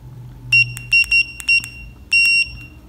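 Several short, high electronic beeps from a SumUp card payment terminal in quick clusters, some single and some doubled, standing out over a low background hum.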